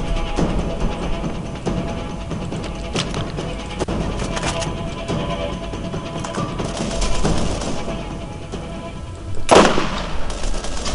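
Gunfire in the video game Borderlands, where a sniper rifle is in use: scattered muffled shots and impacts over a busy game soundscape, with one sharp, loud crack near the end.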